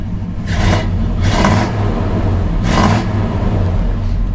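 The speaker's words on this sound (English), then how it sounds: "And the exhaust on this truck sounds really good too." Aggressive exhaust on a 1987 GMC V1500 truck revs three times in sharp bursts over a steady low idle rumble, close and loud, with no talking.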